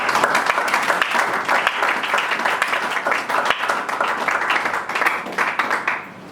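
A congregation at a church service applauds to acclaim the Lord, with dense, steady clapping from many hands that holds strong throughout and tapers briefly at the end.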